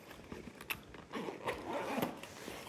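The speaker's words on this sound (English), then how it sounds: "it's got a little zipper pouch here." Someone opens the small zipper pouch on a Michelle brand toiletry bag: quiet, close, scratchy zipper rasps in short bursts.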